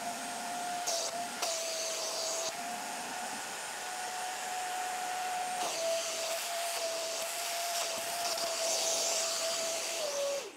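A Vevor 4-in-1 vacuum cleaner running steadily while sucking up a soy sauce stain with water, giving a loud, continuous whining suction drone with a steady tone and brief shifts in pitch, ending abruptly.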